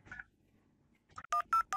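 Three short VoIP phone dialing tones in a Packet Tracer simulation, evenly spaced and clear, following a faint earlier beep and a quiet gap.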